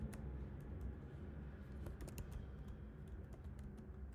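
Code being typed on a computer keyboard, a quick uneven run of key clicks heard close up over a low steady background hum, with no talk.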